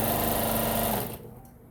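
A sewing machine stitches a bag seam in a fast, steady whir that runs loud and close, then cuts off abruptly, leaving quiet room tone.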